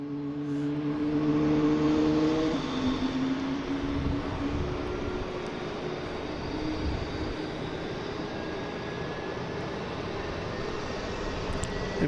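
A Delta Air Lines Airbus A321 on approach to Boston Logan International Airport, flight 518 arriving from Atlanta. Its jet engines give a steady broadband roar that swells over the first two seconds and then holds loud and continuous with no voices.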